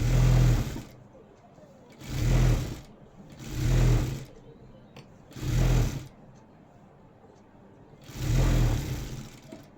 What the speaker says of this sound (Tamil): இந்த மாதிரி பெரிய தையல் அடிக்கும்போது